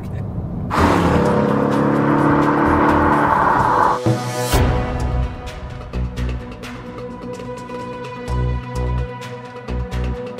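A Mercedes E63 AMG launches hard from a standstill, its engine roaring loud and close as it pulls through a gear, then a shift and continued acceleration, with a little speech from inside the car.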